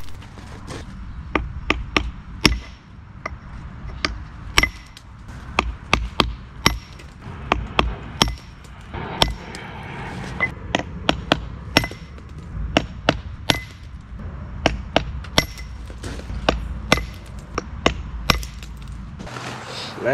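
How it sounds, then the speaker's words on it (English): A hammer drives a chisel along the edge of a granite block to rock-face it, producing a steady series of sharp, close, ringing strikes over a low background rumble. "there's something about the sound the chisel makes that I just can't get enough of"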